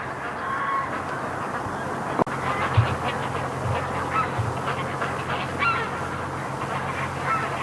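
Muscovy ducks on a lake at dusk give honking calls, moderately close over a low steady background rumble, with a sharp knock heard early on.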